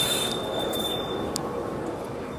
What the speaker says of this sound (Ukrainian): Кажеться, в мене трамвай втік, да, втік.